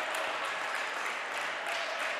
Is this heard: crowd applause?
yes